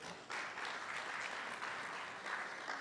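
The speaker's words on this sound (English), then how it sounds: "A round of applause for them as well" Applause from an audience at an education department indaba, steady clapping from a fairly large crowd, heard at a modest distance without speech.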